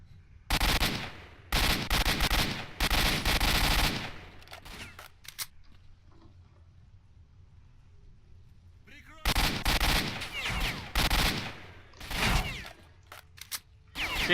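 Automatic rifle fire from a special ops AK in the shooter game S.T.A.L.K.E.R.: Shadow of Chernobyl, with loud rapid bursts at the start, a quieter pause, then more sustained bursts of gunfire.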